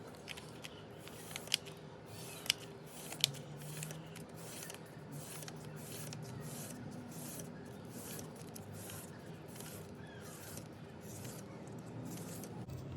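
Scissors snip through paper strips, a quick series of crisp cuts near the start followed by steady rustling and handling of the paper throughout.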